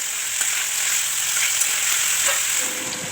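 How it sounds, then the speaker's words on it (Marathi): Cut potato pieces fry in oil in a kadai with a steady, close, bright sizzle that carries on unbroken, with faint stirring scrapes and a soft tap or two underneath, and no voices. "मग एका कढईत थोडे तेल टाकून कापलेल्या 2 बटाट्यांच्या फोडी टाकूया आणि परतून घेऊया"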